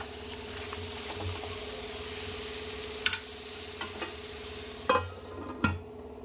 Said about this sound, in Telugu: ఇప్పుడు టమాటాలు ఉడికే వరకు ఉడికించుకుందాం.